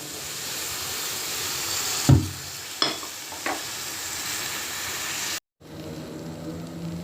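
Boiled chickpeas go into a pan of hot spiced oil for spicy shingara filling, bringing a steady hiss of frying, a sharp thump as they land, and a couple of spoon scrapes before the sizzle cuts out briefly and resumes quieter.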